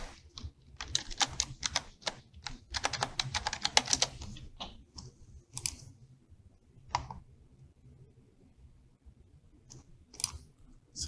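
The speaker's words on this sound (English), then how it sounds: "put in the name, and we put in a password" A password goes in on a computer keyboard as a quick burst of soft key clicks, then slower scattered taps with pauses, all faint and close in a quiet room.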